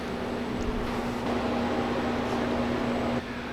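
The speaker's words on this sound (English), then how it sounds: "I'd started the freeze dryer about 3 hours ago." A home freeze dryer, several hours into a batch of pears, runs with a steady close mechanical hum and a constant low drone from its vacuum pump, with no talk over it.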